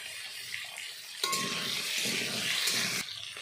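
Taro and potatoes fry in a pan, a soft continuous sizzle with stirring scrapes and light clinks of a utensil against the pan, close and fairly quiet.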